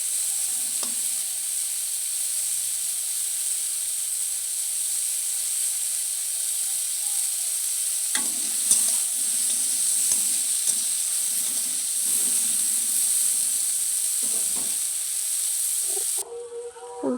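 Cauliflower florets fry in oil in a pan, a steady close sizzle and hiss throughout, with a few scrapes and stirring clatters in the second half.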